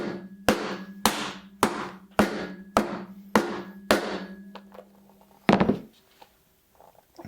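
A hammer pounds a J-Tan leather TT2 baseball glove seven times in a steady beat, then a heavier, duller thump lands after a short pause before quiet.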